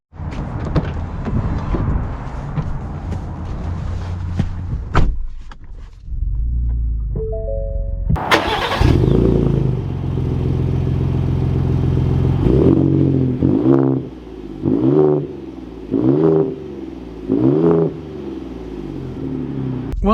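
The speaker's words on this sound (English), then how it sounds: "But that's the TRX driving." A 2021 Ram TRX truck cranks to life after a quiet pause, then its engine idles with a deep rumble and gives several sharp revs in a row, loud and close.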